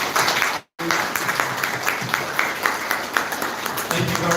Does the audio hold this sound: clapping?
yes